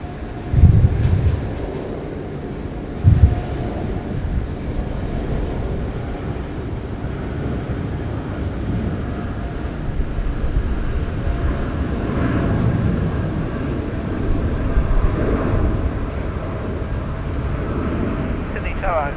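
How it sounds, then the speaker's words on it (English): A Xiamen Air airliner taking off at Sydney Airport, a broad distant roar of jet engines building and sustained under wind noise, with a couple of brief bumps near the start and voices at times. "All right, Xiamen Air taking off."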